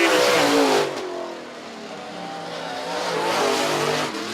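Race car on a qualifying run at Merritt Speedway, engine roaring loudly as it passes close, fading through the turn, then swelling again as it comes back around, alone without talk.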